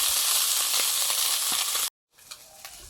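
Hilsa fish head rubbed with salt, turmeric and chili powder frying in mustard oil, a loud, dense sizzle that cuts off abruptly and then returns as a quieter crackle.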